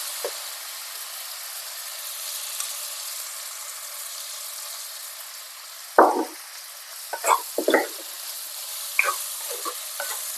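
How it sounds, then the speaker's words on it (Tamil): Onion, garlic and chopped tomato frying in oil in a pan, a faint steady sizzle that turns into several sharp scraping and clinking stirring strokes in the second half, close by and with no talking. "வெங்காயமும் பூண்டும் எண்ணெயில் நல்லா வதங்கினதும் எடுத்துருக்கிற தக்காளியை கட் பண்ணி இதில் சேர்த்துக்கலாம்"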